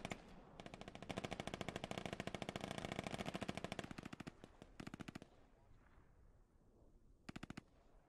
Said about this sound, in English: U.S. are shooting a few bullets